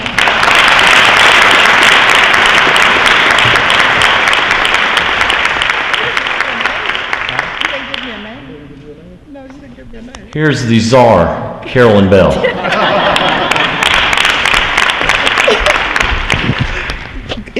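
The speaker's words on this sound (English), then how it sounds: "Let's give her a round of applause." Loud, dense applause from an audience at a small-business conference fills the room, dips briefly while a voice announces the next speaker over it, then surges back strong and sustained to the end.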